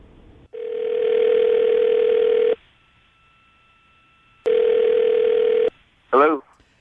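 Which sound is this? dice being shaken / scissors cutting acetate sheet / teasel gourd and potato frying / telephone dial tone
telephone dial tone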